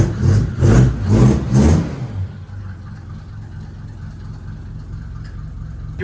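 A 40-year-old Mercedes W124 running with its silencer removed gives several loud, rough revving bursts up close, then drops into a steady, raw-sounding idle.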